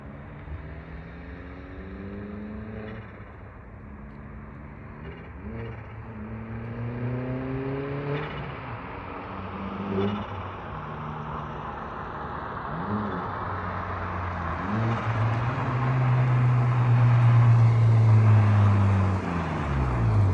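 Audi A4 with its muffler deleted, a loud, raspy exhaust close by that climbs through several revving pulls and swells louder toward the end, with no voices over it.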